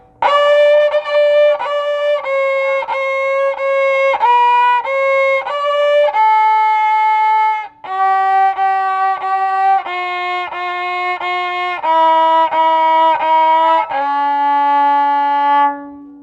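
Violin bowed with the bow held parallel to the bridge, playing a sustained sequence of clear, evenly spaced notes that change pitch every second or so, loud and close with no talking.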